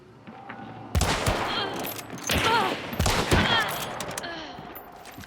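Gunshots in the Hunt: Showdown shooter game, several sharp, loud cracks and rattling bursts with echoing tails, arriving in uneven clusters over a low background.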